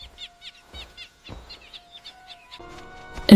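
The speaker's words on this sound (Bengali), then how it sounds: "পাখি ডাকছে।" Birds in an animated Bengali fairy tale call in quick, repeated chirps at a steady pace. The chirps are fairly faint over a thin tonal background, and a louder burst comes at the end.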